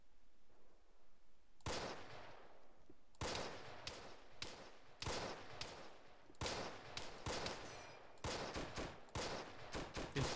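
Bursts of automatic gunfire in a WW2 video game, rapid rattling volleys and single sharp shots repeating in clusters, loud against a quiet background.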